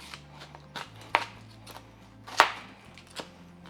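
A knife cutting two celery stalks in half on a board, a few sharp chops standing out over light kitchen handling sounds, with two crisp, louder cuts spaced apart.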